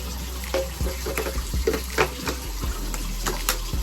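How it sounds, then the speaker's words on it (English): Naväge nasal irrigation reservoir rinsed under a running tap, water splashing nearby with irregular knocks and sloshes as it is handled. "Give your reservoir a rinse."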